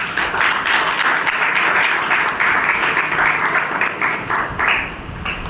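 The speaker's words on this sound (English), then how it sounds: "Let us give him a big round of applause." Applause from a club meeting audience, a fairly loud, steady patter of many hands clapping with slight swells and a brief dip near the end.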